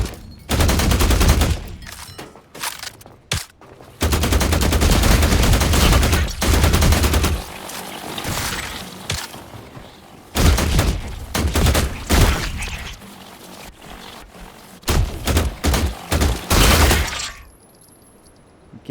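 Bursts of gunfire in the video game The Last Caretaker, loud sustained volleys broken by short pauses, then a few rapid shorter bursts before falling quiet near the end.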